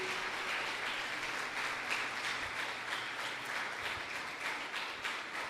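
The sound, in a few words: church congregation applauding cell leaders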